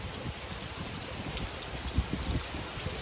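Heavy monsoon rain pours down over farmland, a dense, steady hiss of drops with a few heavier thumps, close and continuous with no voices.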